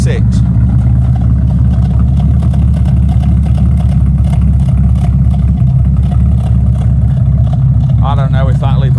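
A TVR Tamora straight-six sports car engine idles and blips loudly up close, a steady throbbing rumble with small rev swells, and a voice cuts in briefly near the end.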